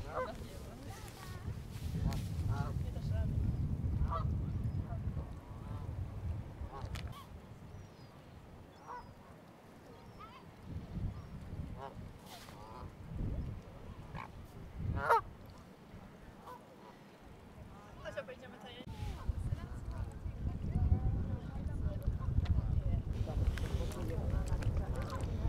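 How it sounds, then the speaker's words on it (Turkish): Geese and ducks honk and quack at a lake beside Kensington Palace in London, with scattered calls at middle distance over an outdoor background and people talking nearby. "Karşıda da çok güzel bir göl var. Orada kazlar,"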